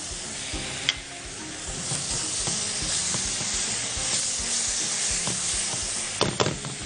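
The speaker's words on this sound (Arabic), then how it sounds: "هقلب بقى السجق وانا شغال" Sausage fries in tomato sauce while being stirred. A steady sizzle and hiss run throughout, with regular scrapes and knocks of the spoon and a couple of louder clanks near the end. No speech.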